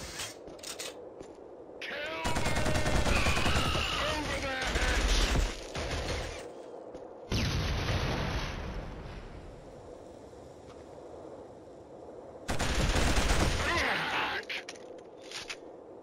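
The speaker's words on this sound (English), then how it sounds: "Keep on moving and concentrate your fire on those MGs!" Machine gun fire from the PS3 shooter Killzone comes in several loud, sustained bursts separated by quieter battlefield stretches.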